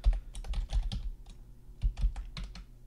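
Keys clatter on a computer keyboard in quick uneven bursts, several clustered taps followed by a pause and another flurry, close and crisp with no voices.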